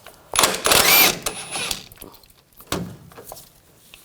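A 22mm socket removing the outer tie rod nut on a 2000-2006 BMW X5, with short bursts of metallic ratcheting and clattering close by, separated by quiet gaps.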